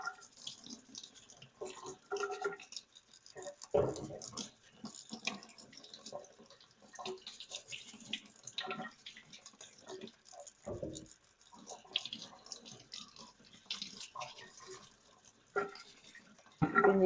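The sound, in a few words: scrubbing freshly harvested potatoes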